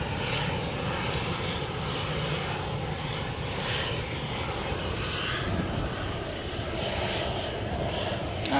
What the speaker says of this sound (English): Volume up at the moment with these runway 2 departures.